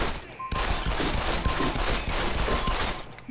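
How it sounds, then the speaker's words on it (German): Continuous rapid gunfire hammering at an armored glass window in Deus Ex: Human Revolution, a dense, loud fusillade starting abruptly after a brief pause and running nearly unbroken with no talk over it. "Die schießen auf jeden Fall auf die Scheibe"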